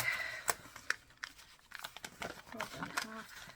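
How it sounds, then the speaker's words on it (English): An old paper bag is handled close up, giving scattered dry crinkles and sharp rustles, with some quiet speech mixed in. "got a paper bag"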